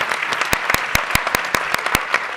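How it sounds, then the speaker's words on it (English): A small audience at a college summit panel breaks into a round of hand claps, sparse and uneven with distinct individual claps standing out sharply near the listener. "Now we need round hand claps for that"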